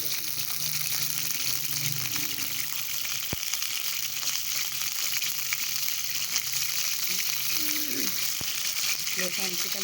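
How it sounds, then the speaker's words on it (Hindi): Chicken pieces frying in hot ghee, a steady, dense sizzle that runs loud and unbroken throughout, with a couple of sharp clicks and a faint voice-like murmur near the end. "गरम हो चुका है घी हमारा, इसको फ्राई करेंगे चिकन को हम। चिकन फ्राई हो रही है हमारी।"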